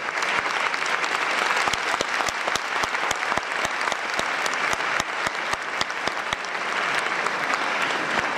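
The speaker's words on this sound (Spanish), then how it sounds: "Quiero que recibamos con un aplauso gigantesco, como se merece, al maestro Francisco" A concert audience in Alcorcón applauds steadily in welcome of pianist Francisco Sarriá, dense continuous clapping from a large crowd filling the hall without a break for the whole stretch.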